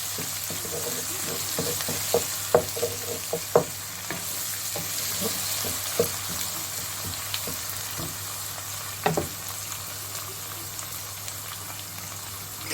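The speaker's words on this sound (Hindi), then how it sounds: "इसको हम 2 से 3 मिनट भून देंगे।" Onion and mutton mince frying in a pan for zucchini and mince, a steady close sizzle with scattered crackles and stirring clatters, no talk.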